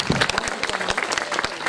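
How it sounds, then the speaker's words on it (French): At the stage 1 ceremony of the 2023 Tour des Landes cycling race, a crowd applauds cyclist Louis Pijoulet with a short burst of scattered, moderately loud claps lasting under two seconds. "je voudrais qu'on l'applaudisse très très fort"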